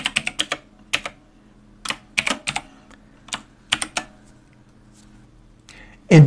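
Bursts of computer keyboard typing while coding in C#, with quick clustered keystrokes separated by short pauses, close and fairly clear, ending in a louder thump.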